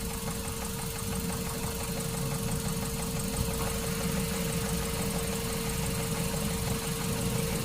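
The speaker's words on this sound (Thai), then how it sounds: "ฟังเสียงเครื่องยนต์เลยนะฮะ" A 2006 Mazda3 2.0R Sport five-door hatchback with a 2.0-litre engine idles steadily and close by. The hum is even and unbroken, with no talking.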